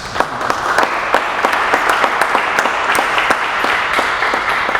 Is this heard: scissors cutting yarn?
no